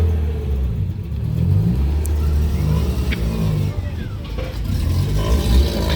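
Peugeot 306 rally car with a loud aftermarket exhaust rumbles and revs at a historic rally gathering in Borgo Lucciana. The engine drone is steady and close, with crowd chatter mixed underneath.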